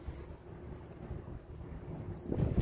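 Gusty wind blowing across a microphone at an outdoor barbecue on a rainy day, a low buffeting rumble that swells louder near the end.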